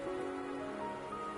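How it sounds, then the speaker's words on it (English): Steady rain falling in the video game Wuthering Waves, an even patter of drops on a surface under a soft sustained tonal game ambience, brief and uninterrupted. "Don't worry, the rain won't last much longer."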